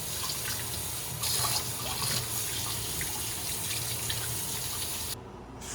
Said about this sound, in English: we'll wash the cauliflower and broccoli a little bit and the carrot.